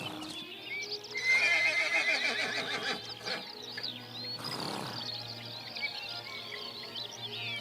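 Wild Danube Delta horses in a forest, one giving a loud, shrill whinny that rises and shakes for about two seconds, followed by lower snorts and rustling in the herd nearby.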